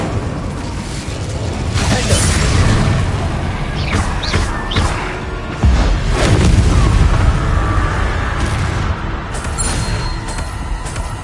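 The Incendio fire spell is cast in the Hogwarts Legacy video game, producing loud, dense, booming blasts that roll on continuously with repeated surges and crackling bursts, up close and without speech.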